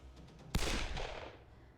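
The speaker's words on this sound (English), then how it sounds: "the crack of a second gunshot slammed into my eardrums" A single sharp gunshot cracks out in the video game Hakuoki: Kyoto Winds, loud and abrupt, then a rumbling decay trails off over a faint background.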